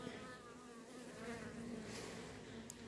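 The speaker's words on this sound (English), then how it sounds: "A lot of bees in there." Honeybees buzz in a colony two weeks after installation, a steady, faint, sustained drone of many wings heard alone without voices.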